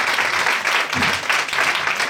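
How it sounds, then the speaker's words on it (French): An audience claps for children at a kids' musical comedy show, a steady dense wash of applause filling the whole stretch with a brief low voice murmur partway through. "On les applaudit bien fort, s'il vous plaît."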